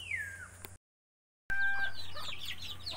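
Backyard chickens cluck and chirp outdoors, a short bird call at first, then a brief gap before overlapping clucks and squawks continue close by.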